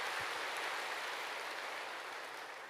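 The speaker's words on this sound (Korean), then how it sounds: "하나님께 다시 한번 감사와 영광의 박수를 올리겠습니다." Church congregation claps in praise during a Sunday worship service, producing a fairly faint, even patter of many hands that fades slightly toward the end.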